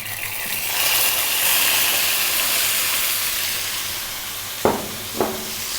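Steady loud sizzling of seasoned lamb stir frying in very hot oil, a constant hiss close by, followed near the end by two sharp clanks of a utensil.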